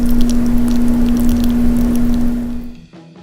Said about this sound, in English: That's the sound of a pork rind getting gumbo poured on it